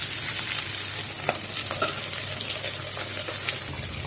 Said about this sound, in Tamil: இது வதங்கட்டும் மூடுதான் சீக்கிரம் வதங்கிடும்